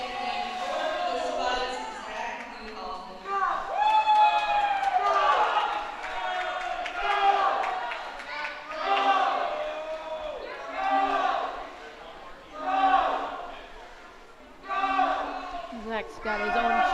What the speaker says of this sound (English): Zach's got his own cheering team down at the other end